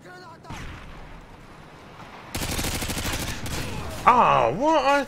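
Gunfire in the video game Call of Duty: Modern Warfare 2 sounds as a rapid burst of automatic shots that starts abruptly partway through, after a quieter stretch, with a voice exclaiming near the end.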